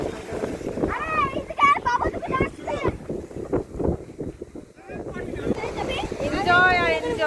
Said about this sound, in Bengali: তো সমুদ্রের হাওয়া,